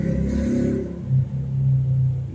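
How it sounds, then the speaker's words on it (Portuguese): A loud motorcycle passes outside on a street in Rio de Janeiro, a heavy low engine rumble that swells with a brief rev and then holds steady, with no voices. "Não sei qual é a graça de ter a porra de uma moto fazendo um barulho do inferno"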